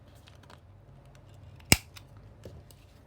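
A single sharp snip of scissors cutting across a paint chip card, one crisp cut standing out over a quiet room, followed by a fainter second snip a moment later.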